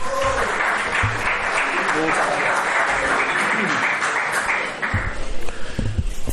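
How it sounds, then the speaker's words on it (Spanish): An audience at a seminar on forest property in the province of Cuenca gives warm, sustained applause, loud and continuous, with some low thumps and handling noise near the end. "le damos un cálido aplauso"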